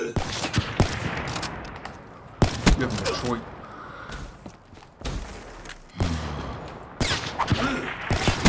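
Black Ops 3 gunfire comes in several sharp bursts of shots with gaps between them, loud and close, alongside game sounds and some talking.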